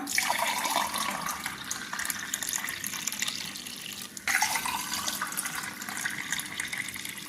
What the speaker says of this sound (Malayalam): അപ്പം നമുക്കിതൊരു ഗ്ലാസ്സിലേക്ക് മാറ്റാം